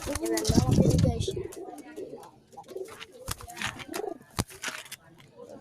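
Pigeons kept as a collection coo close by, with low throaty calls at the start and softer coos and rustling afterward, alongside a voice.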